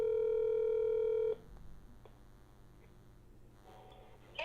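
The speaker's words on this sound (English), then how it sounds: "I'm calling from my house phone." A house phone's steady tone is followed by faint clicks of dialing in a quiet room, with one short beep at the end.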